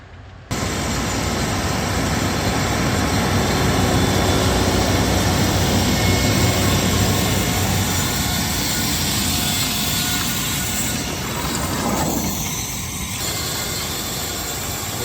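A Merlo telehandler's diesel engine runs at high revs during a DPF regeneration, a loud steady roar with a rattling exhaust note that eases slightly near the end.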